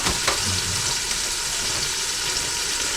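Pork chops coated in BBQ rub sear on the sauté setting of a pressure cooker, giving a steady close sizzle and crackle with a light scrape near the start.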